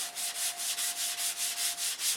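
A soft block sands a model aircraft flap's airfoil in steady, even back-and-forth strokes, about nine rhythmic hissing rasps, close and clear with no talking.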